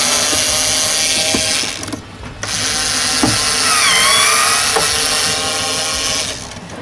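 A power driver backs out the screws holding a door speaker on a Jeep Cherokee XJ. The whir is loud, close and continuous, rising and falling in pitch, with a brief pause partway and a few clicks, and no voices.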